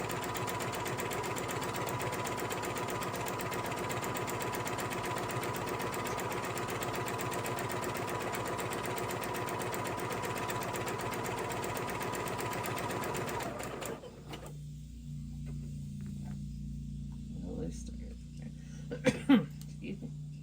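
A sewing machine stitches curtain fabric in a fast, steady mechanical chatter for about fourteen seconds, then stops, leaving quieter room sounds and a few small handling knocks.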